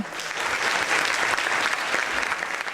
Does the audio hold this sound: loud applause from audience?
yes